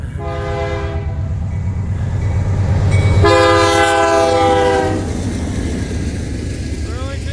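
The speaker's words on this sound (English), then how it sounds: "I heard the train horn, so here we go." A BNSF freight train east of Bozeman, Montana sounds its horn in two loud, close blasts over a low rumbling engine and rolling railcars, with a voice speaking briefly.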